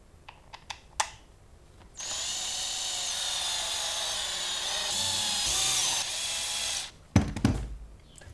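A power screwdriver runs steadily for about five seconds, driving screws back into the drive housing of a planetary mixer under repair, framed by a few clicks and clatters of handling before and after.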